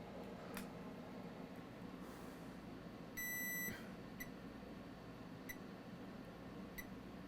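A multimeter set to diode mode beeps during continuity checks on an iPad 4 board, with one clear short beep and several faint ticks among quiet room noise.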